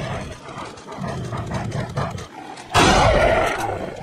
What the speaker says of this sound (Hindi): एक और कुत्ते के घुर्राने की आवाज़ आ रही है भाई